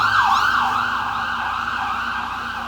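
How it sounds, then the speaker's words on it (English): A passing emergency vehicle's siren wails loudly in repeated rising and falling sweeps over faint traffic rumble, with no voices. "Wait for the siren to go by."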